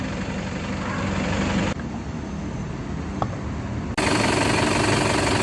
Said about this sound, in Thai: ขับมาสักประมาณ 15 นาทีนะครับ ไอกระทุงก็ยังมีอยู่นะครับ